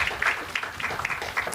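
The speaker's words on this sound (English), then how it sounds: "One more round of applause for the chair." Applause from a crowd, steady clapping texture throughout with scattered louder claps, moderately distant.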